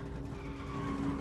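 Airliner tires skidding on a storm-soaked runway after landing, a short, faint screeching scrape with a rough rumble beneath, heard alone.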